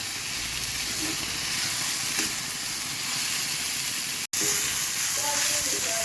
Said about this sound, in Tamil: நல்லா வதங்கி வச்சுக்கிட்டே இது போதும்